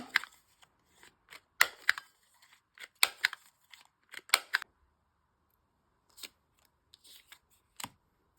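A medium corner punch rounds the corners of larger paper cards for junk journal ephemera, giving a series of sharp, close crunching snaps in irregular clusters, some doubled, with quiet pauses between them.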